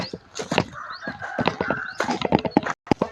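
Chickens cluck and squawk at a temple yard in Lamphun, a busy cluster of near, fairly loud bursts and short calls overlapping one another with brief gaps.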